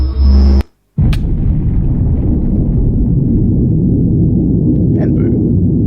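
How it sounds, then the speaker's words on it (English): Draconic Evolution reactor blowing up in Minecraft, a loud low explosion that cuts out briefly, then a sustained heavy rumbling roar lasting several seconds. "the containment field will start to drain really quickly, overwhelm these creative energy cells, and the whole thing will just blow up"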